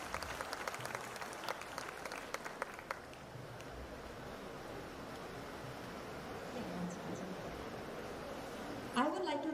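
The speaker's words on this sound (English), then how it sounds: "So a big round of applause to our triple R." Applause at a conference on waste management, air and water: a faint spatter of audience clapping for a few seconds that fades into low room murmur and background hiss.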